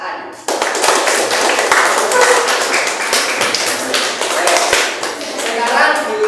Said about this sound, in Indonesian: tepuk tangan untuk Mas Aziz dan Mas Aan